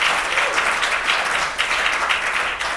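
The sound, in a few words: audience clapping hands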